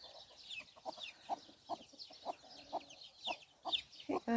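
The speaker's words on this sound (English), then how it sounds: "I do love silkies, they're just such lovely, lovely chickens." Silkie chickens cluck softly in a pen, giving a steady string of short, fairly faint clucks about every half second, with a louder squawk near the end.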